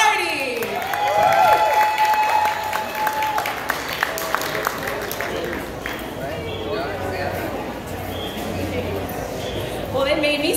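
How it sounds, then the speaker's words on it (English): An audience at a vegetarian festival applauds as a health educator is introduced, with scattered clapping mixed with cheers and voices that rises and falls before the speaker begins. "a big round of applause for Miss Vanessa Sardi"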